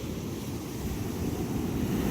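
Sea waves wash steadily, a continuous low rushing surf that stays fairly even and close, with no voice.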